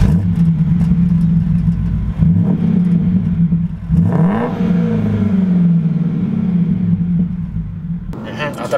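BMW 745i E65 V8 with the sport exhaust flap open, a deep steady burble idling and blipping into a couple of rising revs, loud and close, while people talk over it.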